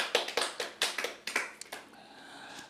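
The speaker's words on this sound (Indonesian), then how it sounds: "Tepuk tangan buat Tuhan, dia baik diberikan." A church congregation claps hands during a sermon, a loose run of about ten sharp claps over two seconds, fairly close, before the claps fade into a quiet room tone.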